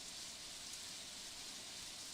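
Rain drums steadily on a moving car during a drive between Brisbane and Sydney, a constant dense hiss with no breaks.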